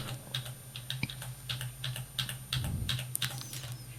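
Keys tapped on a computer keyboard during an office-software shortcut demonstration, with a quiet, steady run of light clicks and a brief cluster of harder presses near the end.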